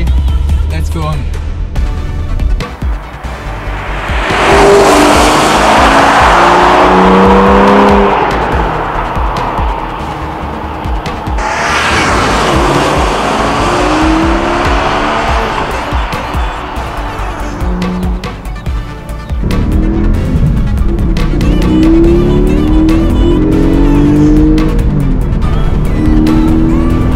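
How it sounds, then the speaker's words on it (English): A Porsche Cayman GTS 4.0 with a naturally aspirated boxer engine drives hard, its loud engine revving up through several gear changes with rising and falling pitch sweeps, while someone talks over it at times. "one of the last luxury aspirated Porsche boxer engines"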